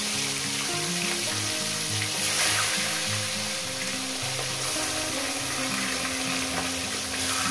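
Katla fish heads fry in hot oil with a dense, continuous crackling sizzle, close and steady throughout, with a faint tonal hum underneath and no talking.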